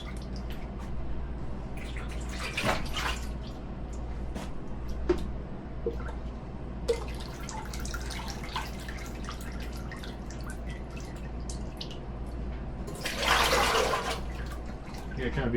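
Water sloshed and flushed out of a bucket while cleaning a BBQ food truck: steady drips and trickles over a low background hum, with two louder splashing rushes a short way in and again near the end.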